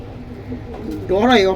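Red-pied military pigeons coo in a short, close rising-and-falling call near the end, heard over a low background murmur.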